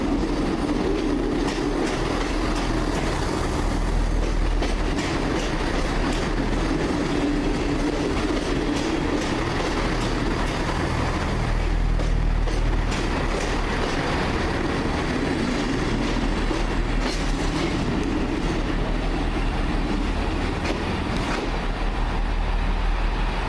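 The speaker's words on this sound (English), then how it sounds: "Comes the Class 158 operating to Holyhead." A four-coach Class 158 diesel unit bound for Holyhead rolls past a station platform up close, with a steady rumble, a clickety-clack of wheels over rail joints and faint squeals. The sound holds loud for the whole stretch.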